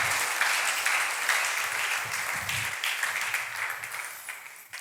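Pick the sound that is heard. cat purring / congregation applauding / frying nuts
congregation applauding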